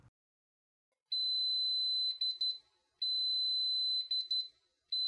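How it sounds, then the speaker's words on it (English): A Taylor TTi colorimeter timer emits high, clean electronic beeps in two spaced bursts, each a long tone followed by short chirps, fairly quiet against an otherwise silent background. "When the timer beeps, the instrument will read the sample and the result will be displayed."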